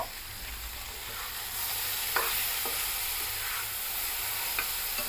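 Potatoes seasoned with turmeric and salt sizzle steadily in a pan, with a few sharp stirring scrapes and clacks over the close, continuous frying hiss.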